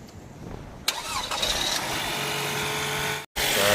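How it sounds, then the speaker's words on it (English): A Lexus NX300 engine cranks and fires after a jump start from a dead battery, catching quickly and settling into a steady, close idle with no talk over it. "Turn it on. Okay, go ahead and start it."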